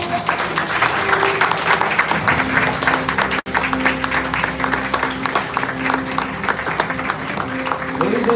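An audience claps at the launch of the book 'The Woods of Betrayal', steady applause from a gathered crowd with a momentary dropout midway, continuing evenly with faint tonal sounds beneath.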